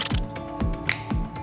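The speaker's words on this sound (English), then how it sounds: "I'm gonna get some screws ready and screw it into the box" Screws being driven into a battery box: a tool whirs in short bursts, three evenly spaced ratcheting, grinding turns close up with faint mechanical clicks between them.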